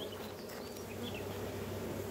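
Bees buzzing around a hive as a dense, continuous drone of many insects, close and steady throughout with no talking.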